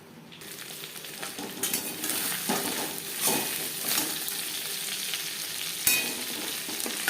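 Tomato, onion and garlic fry in a pan with a steady sizzle, broken by stirring scrapes and occasional sharp utensil knocks, close and continuous without talk.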